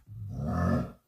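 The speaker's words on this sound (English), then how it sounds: "Let's import the zombie sound." Zombie grunt from the Call of Duty video game, a single low, rough, growling roar swelling for about a second and then dying away, heard alone and up close.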